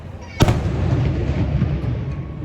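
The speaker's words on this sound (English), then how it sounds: "there will be fireworks every single night, and they are ridiculously loud." One sharp, loud firework bang cracks out over a cove, then a long rumbling echo rolls on and slowly fades.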